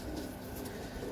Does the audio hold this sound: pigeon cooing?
yes